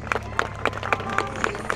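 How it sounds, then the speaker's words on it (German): An audience at a monster truck show claps in a brisk, even rhythm, a run of sharp synchronized claps from a crowd over a low background hum. "Euer Applaus!"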